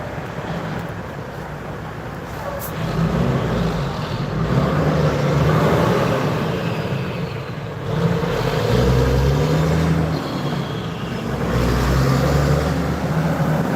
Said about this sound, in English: It sucks with the loud trucks here.